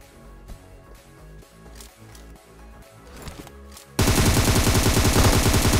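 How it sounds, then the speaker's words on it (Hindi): Automatic gunfire in a battle royale video game, distant and sparse at first, then a loud sustained burst of rapid machine-gun fire close by, with no talk. "साइड से फायरिंग की साउंड भी आने लगी थी"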